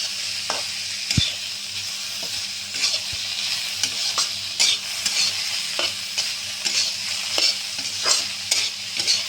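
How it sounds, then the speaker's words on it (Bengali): A rohu fish mixture with salt and turmeric is stirred in a pan (kadai) for patoori, giving repeated scraping strokes at an uneven rhythm over a steady close sizzle, with no voices. "এখন আমি এগুলো সব একটু নেড়ে চেড়ে"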